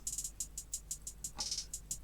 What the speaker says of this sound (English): And then on top I added this hi-hat pattern.